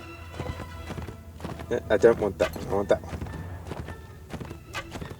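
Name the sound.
horse hooves in Mount & Blade Warband video game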